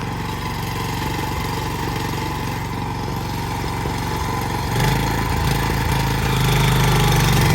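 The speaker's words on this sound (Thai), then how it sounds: "สตาร์ทได้เลย นี่เครื่องแปดแรงนะครับ" An eight-horsepower engine running steadily with a loud, close, continuous rattling drone that grows slightly louder and deeper toward the end.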